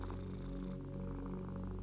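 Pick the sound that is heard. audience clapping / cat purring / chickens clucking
cat purring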